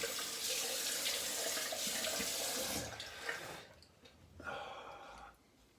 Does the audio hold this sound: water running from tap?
yes